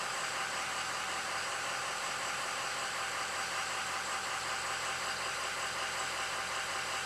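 An engine runs steady and smooth at idle after a crank-no-start repair, a continuous even hum with no talking, heard from close by.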